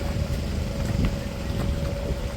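A vehicle ferry boat's motor drones with a steady, loud, low rumble and a constant mid hum, joined by wind buffeting on the microphone and a few faint clicks.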